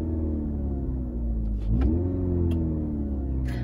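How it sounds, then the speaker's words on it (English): A Volkswagen car with its stock exhaust rumbles and revs steadily up close, its engine tone dipping and rising, with a few sharp, brief pops from the exhaust breaking through. "Can you hear those backfires?"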